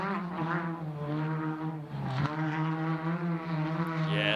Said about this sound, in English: these 10 class cars just sound so nice